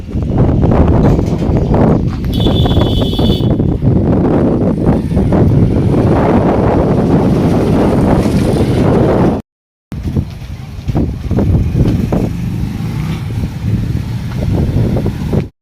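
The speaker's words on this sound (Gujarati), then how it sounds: "પવન નીકળ્યો છે જોરદાર" Strong gusting wind buffets the microphone outdoors, a loud, continuous broadband roar that runs almost unbroken, with one brief dropout near the middle.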